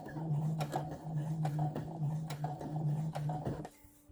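A sewing machine running in quick rhythmic bursts of stitching along the original hem of a pair of jeans, fairly quiet and close, stopping near the end.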